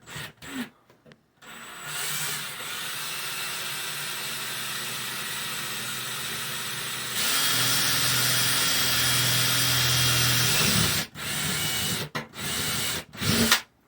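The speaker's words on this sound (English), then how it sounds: "Drill bit wants to walk." A power drill drilling a pilot hole whirs steadily, boring into material, with the pitch shifting as it bites deeper, then stopping in a few short bursts.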